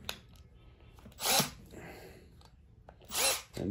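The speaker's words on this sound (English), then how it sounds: "Let's make use of that drill again." A power drill whirs in two short bursts while working on an acoustic guitar, separated by quieter handling noises.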